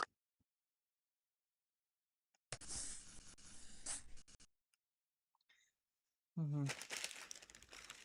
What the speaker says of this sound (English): plastic bag that's flying away